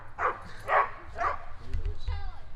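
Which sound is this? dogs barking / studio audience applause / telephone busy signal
dogs barking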